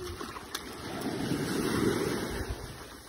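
Strong ocean surf at a beach park, a steady washing roar that swells toward the middle and eases off, with wind buffeting the microphone and no talking.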